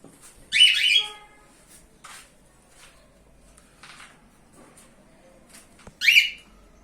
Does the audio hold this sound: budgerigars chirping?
yes